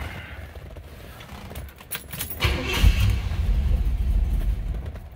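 A 1941 Cadillac Series 60 street rod sedan cranks over and catches, its engine rising from a quiet rattle into a steady, close, low rumble that holds to the end.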